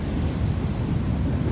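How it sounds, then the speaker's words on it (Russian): Big ocean waves crash against rocky shoreline on Gran Canaria, a loud, continuous low roar of surf mixed with wind buffeting the microphone. "Смотрите, как волны о скалы разбиваются."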